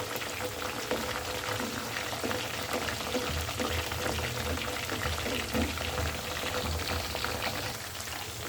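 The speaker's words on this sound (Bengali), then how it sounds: "হালকা না মিডিয়াম ফ্লেমে আপনারা সুন্দর করে ভেজে নেবেন" Chicken pieces with potato frying in a pan over a medium flame, a steady close sizzle and bubbling of oil running throughout with faint clinks, no voices.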